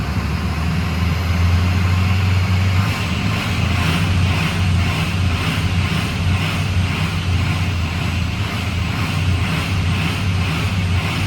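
A rebuilt Ford Powerstroke diesel engine idles steadily and loudly after its first start, a constant low drone with a faint rhythmic pulsing running through the whole stretch.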